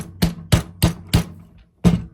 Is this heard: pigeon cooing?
no